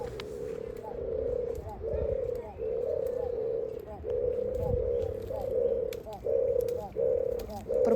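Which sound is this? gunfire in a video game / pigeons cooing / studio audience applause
pigeons cooing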